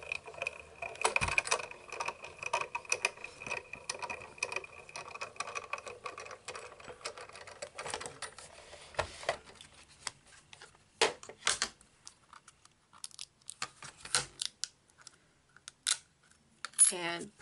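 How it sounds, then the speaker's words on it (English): An electronic craft cutting machine cuts out a paper Santa doll hat, its motor whirring and clicking steadily for about nine seconds before giving way to scattered light taps and clicks. "So I'm just going to put this on and cut it out with my machine."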